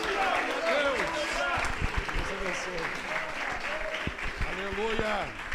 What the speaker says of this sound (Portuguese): Vamos receber o evangelista com palmas para Jesus, bem alegre